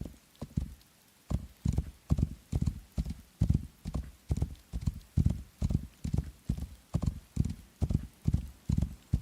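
A horse being ridden in the This Rising World video game, hooves clip-clopping in a steady, even rhythm of close, loud paired beats for the whole stretch.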